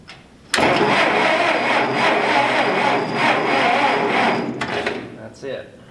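A Massey Ferguson 65 tractor's engine cranks over steadily for about four seconds without catching, a loud close churning drone that then cuts off, followed by faint shuffling.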